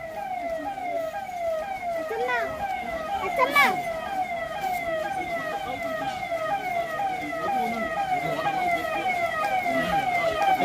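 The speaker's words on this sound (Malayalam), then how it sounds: "ആംബുലൻസ് വരുന്നുണ്ട്." An emergency ambulance siren from a Force Gurkha jeep wails in a fast repeating up-and-down pattern, fairly close and steady, with traffic rumble beneath it.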